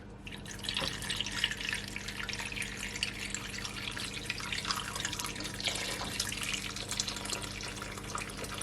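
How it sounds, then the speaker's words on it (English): Water pours from a kettle into a pot of raw potatoes, a continuous splashing, trickling stream close by with small drips, no speech. "Then I'm just gonna pour some of my water from my kettle."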